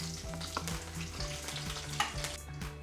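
Nigella seeds and four slit green chillies fry in hot oil in a kadai, giving a steady, close crackling sizzle with faint stirring clatter, no voices.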